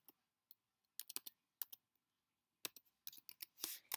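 Keys tapped on a computer keyboard at a sign-in screen, quiet and close, in scattered single clicks and short quick bursts, with no voices.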